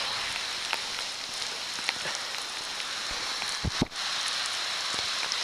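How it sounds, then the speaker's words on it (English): Steady rain pours down on a run home, a dense continuous hiss with scattered louder drops pattering close by, no voices. "as soon as I did, the rain picked up."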